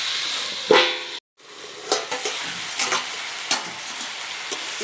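Pumpkin and shrimp being stir-fried in a pan, with a continuous sizzle broken by repeated scraping strokes of the spatula and one brief dropout, close and fairly loud.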